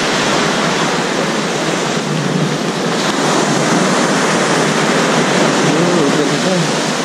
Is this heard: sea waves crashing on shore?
yes